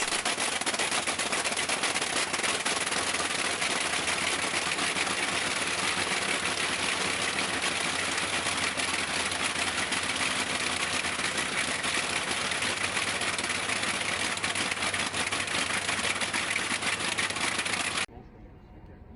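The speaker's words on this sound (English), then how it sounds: "the Hercules Mk.734 stands as a testament to the pinnacle of British piston aero engine design" A Bristol Hercules Mk.734 14-cylinder piston aero engine runs loud and steady with a dense, even drone for the whole stretch, then cuts off abruptly near the end.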